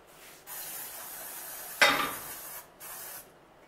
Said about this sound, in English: I'm gonna spray the pan with this.